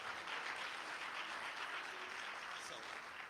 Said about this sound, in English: That's a good place to clap right there.